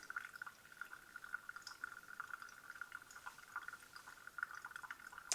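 Hot water poured slowly over coffee grounds in a Chemex, a faint, steady trickle with a soft hiss and occasional light drips, close and quiet with no talk.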